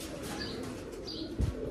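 A pet pigeon coos softly on a rooftop, a few low gentle coos with faint chirps over quiet outdoor ambience and a brief thump near the end.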